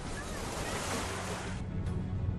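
Sea waves wash steadily on a French bathing coast, a continuous surf roar with wind noise and no voices.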